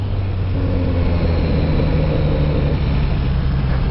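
A steady engine drones close by with a low, constant rumble and slight pitch shifts, a Kawasaki Z900RS motorcycle cruising at even speed.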